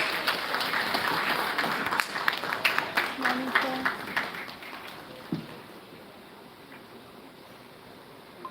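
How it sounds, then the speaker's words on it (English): An audience at an education summit applauds to welcome a speaker forward, producing a steady wash of clapping that gradually fades to a quiet hall. "Let's welcome sir with a huge round of applause,"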